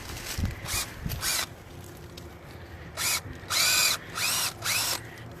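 Cordless drill with a 5/16 bit boring a tap hole into a maple tree, several short whirring bursts of rising pitch, close and separated by pauses.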